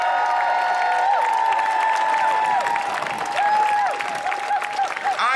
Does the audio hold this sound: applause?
yes